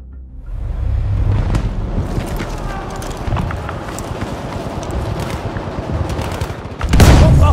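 Battlefield V multiplayer conquest match with a dense, sustained barrage of booming gunfire and explosions from an artillery strike, loud and continuous, ending in a heavy blast near the close.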